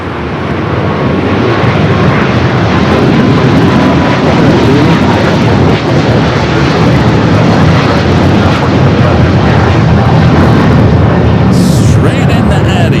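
A Boeing Dreamliner airliner arriving from Tokyo on approach to land at Los Angeles LAX roars loudly and continuously with a close, powerful engine rumble and broadband jet noise throughout.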